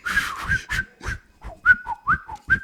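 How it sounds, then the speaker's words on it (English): A person whistles a short, breathy, wavering tune of about eight quick notes, close and fairly loud, with no talking over it. "I'm whistling right now."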